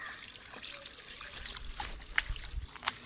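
Chicken being washed outdoors during a family barbecue day: a faint, close trickle and splash of running water, with a few brief louder drips and splashes.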